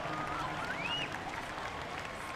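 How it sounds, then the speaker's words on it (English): Crowd cheering and applauding at a Formula Drift Seattle 2022 Pro Round 6 Top 32 battle, a dense, steady roar of many voices with a thin whistle rising above it, no speech over it. "The crowd erupts and stomping their feet for this amazing battle"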